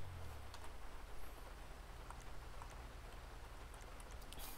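Rain falls in a video game as a soft, steady hiss of patter. It is quiet and continuous, with a few faint ticks of drops and no voices.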